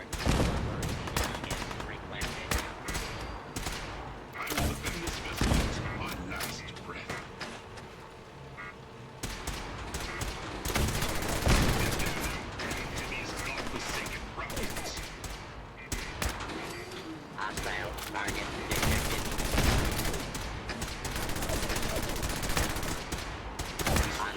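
Rapid bursts of automatic gunfire in a wasteland shooter video game, the bursts coming in waves with brief lulls between them over a background of game sound.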